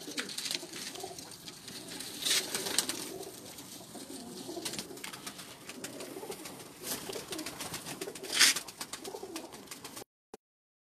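Breeder pigeons coo softly and repeatedly at close range, their low murmuring calls overlapping against a quiet loft background, with no talking.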